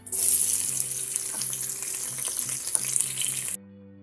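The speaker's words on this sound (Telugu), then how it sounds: "వీటిని లైట్ బ్రౌన్ కలర్ వచ్చేంత వరకు ఫ్రై చేయండి." Onions frying in a pan with carrot and potato, a continuous close sizzle with faint stirring and clinks, cutting off abruptly near the end, with no talking.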